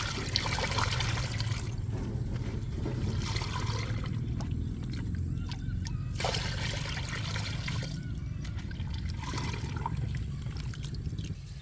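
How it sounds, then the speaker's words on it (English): A yeast, milk and molasses mixture is poured into water and stirred, giving a steady, close trickling and sloshing wash that keeps a constant level throughout. "Pour your yeast, milk and molasses mixture into the water and stir it well."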